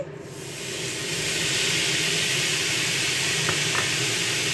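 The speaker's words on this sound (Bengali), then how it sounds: "এবার এর মধ্যে খুব অল্প একটু জল জাস্ট একটু ছেটানোর মতো করে দিয়ে" A splash of water sprinkled over frying vermicelli for shahi lachha semai, setting off a broad steady steam hiss that swells after the first second and holds loud and close, with no talking.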